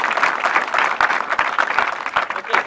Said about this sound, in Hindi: चलिए एक बार जोरदार ताली।